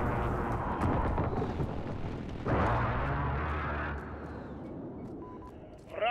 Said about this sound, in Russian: Авиаудар противника.